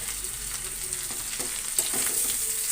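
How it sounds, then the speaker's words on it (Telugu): Ivy gourd and grated coconut fry in a pan, giving a constant bright hiss of sizzling oil with faint scrapes from stirring underneath. "కొబ్బరికాయ కూడా మనం వేసేసుకుని ఒక్కసారి కలుపుకుందాం"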